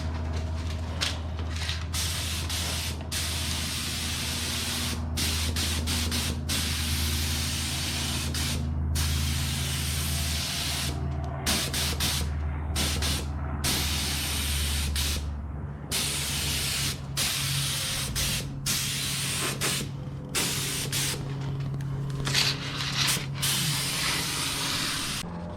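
Spray gun applying a light coat of paint to a Cobra Daytona replica car chassis, a continuous hiss with brief interruptions and trigger pauses throughout, close and steady.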